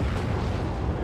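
A video game explosion roars as a dense, loud, low rumbling blast that fills the short moment without letup, heard close and with no voices over it.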